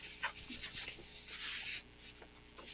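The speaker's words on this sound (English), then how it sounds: "And Greg, I can hear some paper shuffling" Paper shuffles and rustles close to a microphone during a live online call, a faint, uneven scratching that swells for a moment and then tapers off, with no one talking.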